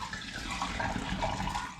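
Rinse water and rhubarb puree are poured into a home-brewed rhubarb and hops cider, giving a soft, steady splashing pour that stays fairly quiet and continuous for under two seconds.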